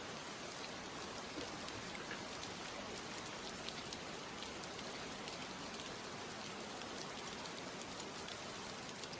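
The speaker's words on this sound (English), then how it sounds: "Oh, rain." Steady rain falls and patters on surfaces throughout, an even, dense hiss of drops that never lets up, with no voices over it.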